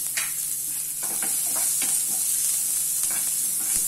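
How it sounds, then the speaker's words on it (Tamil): Onion and curry leaves sauté in a hot pan, giving a steady, close sizzle with scraping stirring strokes throughout and no talking. "ஆனியன் கொஞ்சம் வதங்கட்டும்."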